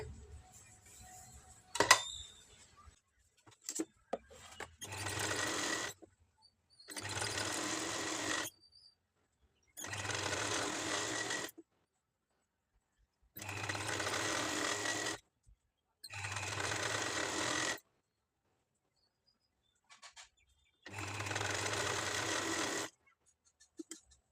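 A sewing machine stitches piping onto a blouse in six separate bursts of fast, steady whirring, each lasting a second or two with quiet pauses between, close up and alone after a few faint handling clicks.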